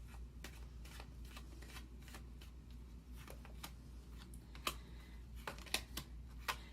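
Tarot cards being shuffled for a reading, soft quick riffling and tapping clicks repeating close by, quiet and alone without talk.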